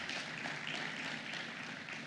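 Audience applause at a bankers' conference after a masterclass by Peter, a steady, even wash of clapping held at a moderate distance.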